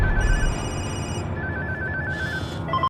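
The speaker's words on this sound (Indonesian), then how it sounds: "Suasana pun semakin tegang diawali dengan serentak berderingnya handphone mereka." Several mobile phones ringing together in a tense film scene, overlapping electronic ringtones with sustained tonal beeps over a low rumbling score, loud and continuous before cutting off abruptly.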